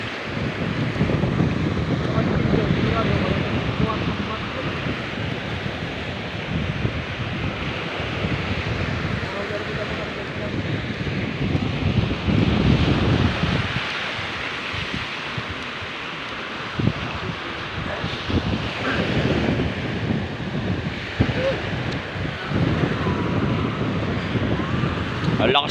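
Strong wind blows at sea aboard a small fishing boat, heavy gusting rumble and microphone buffeting mixed with wave and water noise, continuous and loud throughout, with voices occasionally heard over it.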